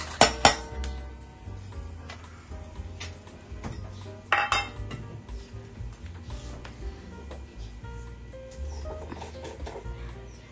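Leftover pithla is scraped into a metal pan for bhakri, with sharp clinks and clatters of a spoon against cookware at the start and again midway, then softer scraping and faint kitchen knocks, close up and without speech.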